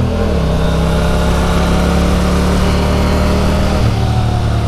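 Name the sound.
motorcycle with Akrapovic exhaust revving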